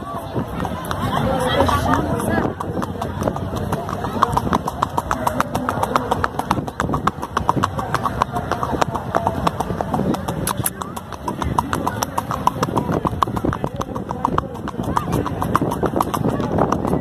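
Horse hooves clip-clopping steadily as a rider goes along in a park, a dense rapid rhythm close by for the whole stretch, with children and a crowd chattering in the background and someone talking.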